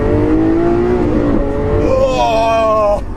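A 700-brake-horsepower Lamborghini Aventador accelerates hard through its lower gears, its loud, close engine note climbing steadily, then dropping at a quick short-shift before rising again and cutting off abruptly.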